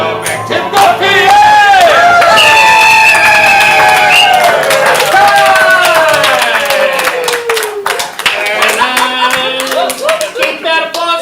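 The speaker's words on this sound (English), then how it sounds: "Keep that applause going." At a ComedySportz improv comedy show, an audience claps and cheers loudly while people sing and shout over it, with the clapping growing choppy near the end.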